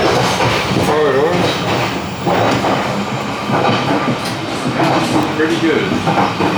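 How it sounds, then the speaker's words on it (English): Inside the corridor of a moving overnight train in Vietnam, a steady rumble and rattling clack of the carriage fill the air, with a person talking over the running noise. "So here is the corridor of the train"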